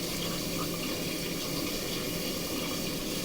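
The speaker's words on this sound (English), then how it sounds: "We're going to let the water flow over top of it" Tap water runs in a steady, close hiss over oxtails in a sink as they are rinsed, continuous and even throughout.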